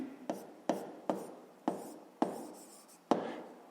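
A pen scratches on paper while a sixth-grade maths exercise is written out, six quick strokes each starting with a sharp tap and fading into a soft rasp, fairly quiet with no talk.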